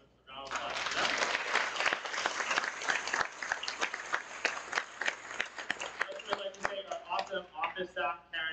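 A school winter concert audience breaks into a round of applause, a dense clatter of many hands filling a hall, with voices talking over it and the clapping thinning out near the end.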